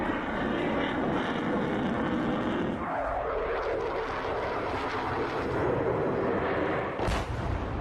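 A fighter jet roars overhead during the Russia-Ukraine war, a loud broadband rumble that swells into a sweeping whoosh midway, ending with a sharp burst.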